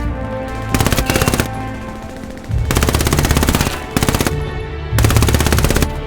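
Bursts of automatic gunfire in the World War II shooter Hell Let Loose, loud and close, coming in three long sustained volleys separated by short lulls, with no talking over them.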